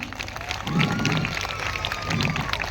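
Audience applause at a Dhee dance show in a packed town crowd: a dense, steady crackle of many hands clapping, swelling slightly in the middle, with crowd murmur underneath.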